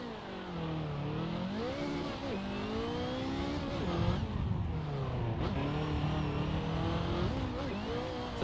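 A race car in a sim racing game revs and bogs down through the gears, engine pitch repeatedly climbing and dropping in a steady loop of acceleration and shifting, moderately loud and alone.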